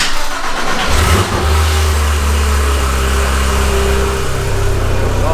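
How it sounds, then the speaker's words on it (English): A Porsche GT3 RS with its stock exhaust fires up from cold, a loud starter catch flaring into a strong rev before settling into a steady, deep idle that holds close and unbroken to the end. "we're going to kind of start off at a cold start on my stock exhaust system"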